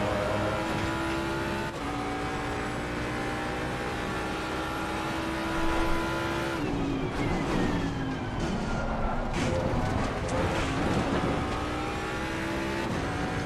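A bright orange Lamborghini GT3 race car at Zolder in a racing game, its engine a loud, sustained whine that holds steady, then drops and climbs through gear changes over rougher rumble partway through.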